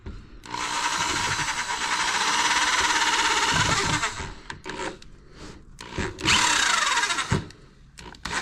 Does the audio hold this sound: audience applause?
no